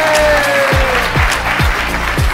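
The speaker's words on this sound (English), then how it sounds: "Let's give a massive clap." Loud applause from a cabaret magic show audience, dense clapping over a rhythmic thumping beat of background music.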